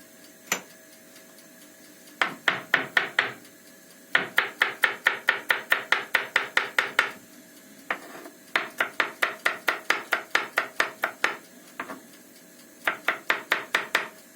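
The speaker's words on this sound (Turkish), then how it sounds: "Şimdi sarımsaklarımı küçük küçük doğrayacağım" Rapid rhythmic knife chops finely dicing garlic on a cutting board, in bursts of quick steady taps with short pauses between, close and crisp.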